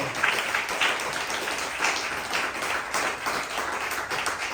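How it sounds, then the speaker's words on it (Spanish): A church congregation at a Spanish-language service claps in a sustained, fairly loud round, with many hands blending into an even roar and occasional sharper claps standing out, with no talking over it. "Dele fuerte palmas a la palabra del Señor."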